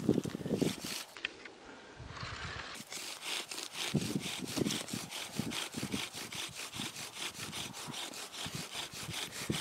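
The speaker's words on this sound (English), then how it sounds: "Nice straight strokes and as much pressure as you can handle." Rhythmic rasping strokes of a wooden bow drill spindle rubbing against a fireboard for friction fire, a steady back-and-forth sawing sound with a brief pause, close and moderately loud.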